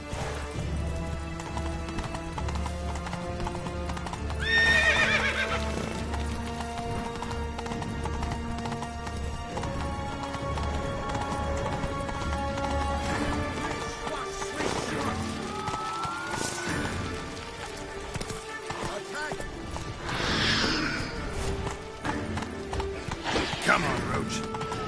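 Roach the horse from The Witcher 3: Blood and Wine clip-clops steadily through game music, with a few whinny-like bursts rising above the hoofbeats and a voice speaking at times.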